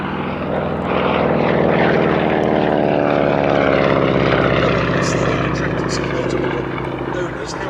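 A Boeing-Stearman Kaydet biplane and a Spartan 7W Executive fly overhead at a Shuttleworth air display, their radial engines and propellers giving a loud, steady, throbbing drone that swells and holds throughout.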